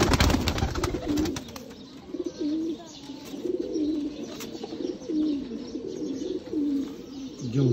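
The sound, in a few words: Sialkoti pearl-spotted pigeons cooing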